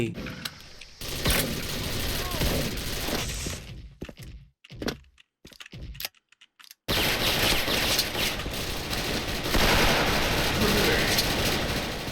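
M4A1 assault rifle fire in the online shooter Special Force, rapid loud bursts and cracks that drop out briefly to near silence and then resume as continuous heavy gunfire.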